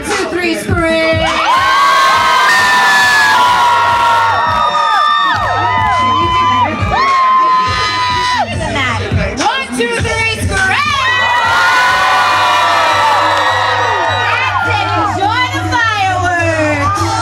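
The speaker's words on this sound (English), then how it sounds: "So let's all practice screaming our heads off for these fireworks." Large crowd of graduates at a grad night event screaming and cheering loudly and continuously, a dense wall of shrill yells and whoops that rises and falls without pause.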